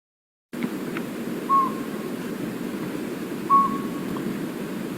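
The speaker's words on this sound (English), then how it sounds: "It's the single tooting sound of the northern pygmy owl" A northern pygmy owl gives two single tooting notes, evenly spaced about two seconds apart, clear but modest over a soft, steady outdoor background hiss.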